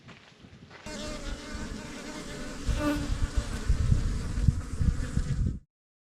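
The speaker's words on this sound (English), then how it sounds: "These are Africanized bees, so you don't want to get stung." A dense swarm of Africanized bees buzzes loudly and continuously in the Kofa area of Arizona, the droning swelling up close for several seconds before stopping abruptly.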